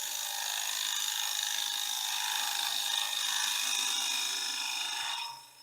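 A hand scraper shears along a wooden fillet, producing a steady, close, dry rasping that runs continuously for about five seconds before trailing off, with no talking.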